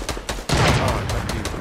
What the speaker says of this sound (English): Where are people shooting from?